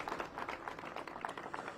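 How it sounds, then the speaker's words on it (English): Faint, distant applause from an audience at a public address by DC Mayor Bowser, a continuous soft patter of many hands with no talking. "Clap for that, y'all"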